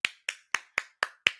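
Six sharp hand claps at an even, brisk rhythm, each crisp and close with a quick decay into silence before the next.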